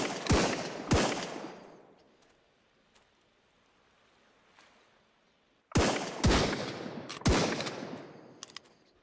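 Enemy gunfire in the survival game Sunkenland cracks out in sharp, loud shots, a pair at the start, then a quieter lull with faint background noise before another rapid cluster of close shots.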